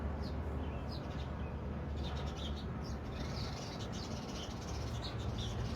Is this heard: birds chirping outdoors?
yes